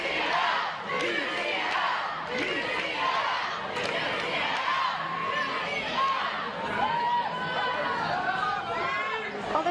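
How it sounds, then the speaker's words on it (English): A varsity rugby crowd of UCL and Kings supporters roars and chants continuously, with overlapping shouts, cheers and calls rising and falling close by, voices blending into a loud, lively stadium din. "Lots of noise in the crowd."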